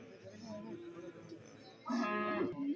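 Cattle at a busy livestock market give a loud, drawn-out moo near the end, over a background of people talking throughout.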